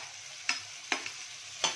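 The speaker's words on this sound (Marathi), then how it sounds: "कांदा थोडा फ्राय होऊन देणार मी। कांद्यासोबतच मिरची सोडणार," Onion and chilli frying in a pan for homemade pasta: a soft, steady sizzle with a few sharp scraping clicks from stirring, close and quiet, with no talking.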